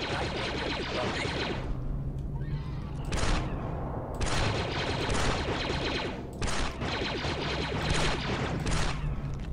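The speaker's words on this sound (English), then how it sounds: "A little bit of pistol action." Dense, sustained pistol fire and combat effects fill a Star Wars Republic Commando game battle, with rapid overlapping shots and brief gaps, loud and continuous.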